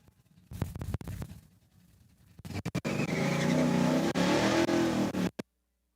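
Cars at a drag race accelerate hard, first a few sharp distant bursts and then a loud, sustained roaring engine run that cuts off abruptly, with no talking.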